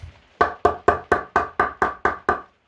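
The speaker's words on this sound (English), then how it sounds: "I get my mallet or a hammer." A mallet taps a cricket bat toe guard on a hard surface with eight evenly spaced sharp knocks, close and loud, each fading quickly.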